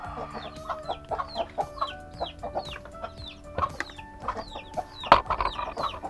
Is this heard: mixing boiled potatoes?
no